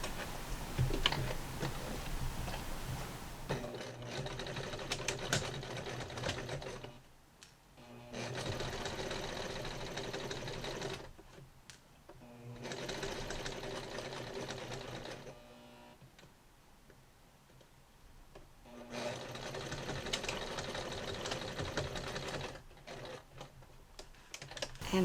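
A home sewing machine straight-stitches along the edge of a fabric face mask where it meets the lining, running in several steady rapid-ticking bursts separated by short pauses.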